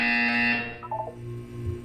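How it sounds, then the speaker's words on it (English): A harsh electronic buzzer from the video game Portal 2 blares loudly for about half a second, followed by fainter tonal blips and a low lingering hum. "When you hear the buzzer, look down at the floor."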